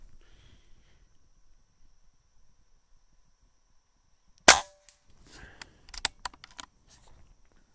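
A Beeman air rifle fires a single sharp, loud shot at close range, followed by a scatter of smaller clicks and knocks as the rifle is handled after a quiet stretch.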